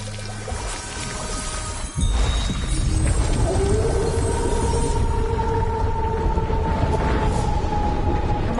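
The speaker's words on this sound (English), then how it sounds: "Try dragging the scepter across the bell a few times." Scepter dragged across a bell in a video game: a sharp metallic strike, then long sustained ringing tones that glide and shimmer over a dense rumbling background, with no talking.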